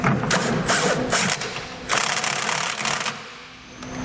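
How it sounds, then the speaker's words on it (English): Continuous mechanical ratcheting and clicking from a wrench tightening a large bolt and U-bolt nuts on a 2010 Ford truck frame during a gooseneck hitch install, steady and close with brief pauses. "So we're going to tighten down this large bolt as well as our U-bolt nuts."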